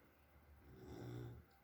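A pet dog snores softly in a quiet room, one slow, low rumbling breath that swells and fades, faint and close by.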